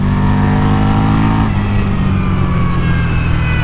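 A Buell Hammerhead 1190 motorcycle engine revs hard and loud at close range, its pitch climbing through one gear, dropping at a shift, then rising again as it accelerates.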